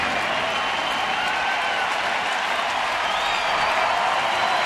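A baseball crowd at Progressive Field roars steadily with applause and cheering as fans rise to their feet, a dense, loud, unbroken wash of noise throughout.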